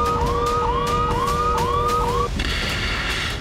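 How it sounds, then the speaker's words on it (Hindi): A loud wailing electronic air raid siren from the Iron Dome alert system cycles up and down in pitch several times, then switches to a harsher higher tone, over steady background noise. "आयरन डोम से अलर्ट का सायरन बजा।"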